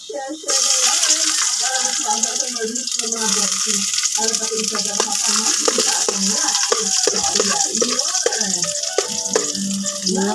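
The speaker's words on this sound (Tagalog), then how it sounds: "Binigisa muna yung luya." Ginger and onion sautéing in a pan, a steady bright sizzle with frequent stirring scrapes, close and loud, while people talk quietly now and then.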